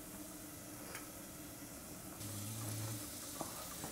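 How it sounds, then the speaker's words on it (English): Sliced vegetables for asparagus soup sauté in a pan, a faint soft sizzle and crackle with light stirring, a brief tonal hum appearing partway through. "Now, we're going to saute."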